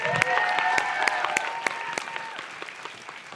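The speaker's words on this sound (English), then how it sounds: "Give her a big round of applause." Audience applause from a seated crowd at a LEAP Week 2023 talk, a steady dense wash of many hands clapping with a few louder nearby claps standing out, holding even throughout.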